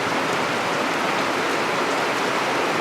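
Rain pours down outside in a steady, dense patter, a loud even wash of drops on surfaces with no one talking.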